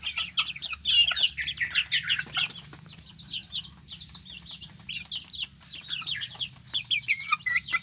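A flock of lemon sweater gamefowl chickens, about two months old, makes a busy mix of soft clucks and high chirps. The calls overlap almost continuously at moderate distance, over a faint low background hum.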